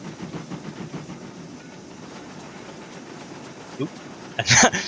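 Steam locomotive in a train simulator game, chuffing along steadily with rail clatter underneath, then a louder hiss-like burst near the end; speech faintly present.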